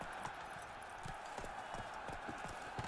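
Roach, Geralt's horse in The Witcher 3, gallops with a steady run of hoof clops over a constant background bed of in-game ambience, with no one speaking.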